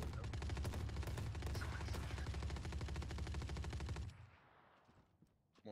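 Light machine gun from the game Valorant firing a long, loud, rapid unbroken burst for about four seconds, then cutting off into quieter ambient game sound.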